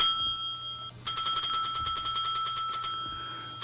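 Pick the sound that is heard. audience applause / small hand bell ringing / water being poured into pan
small hand bell ringing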